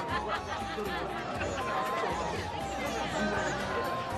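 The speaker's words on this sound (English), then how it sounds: "That's quite a crowd over there." Crowd chatter in the video game Tales of the Abyss, a dense, steady murmur of many voices with occasional louder calls, filling the scene continuously.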